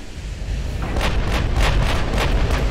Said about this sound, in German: Okay, wir schießen jetzt mal mit HE drauf.